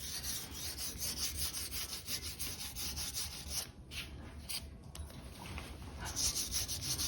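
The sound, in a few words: lightly sanding Minimoog keyboard base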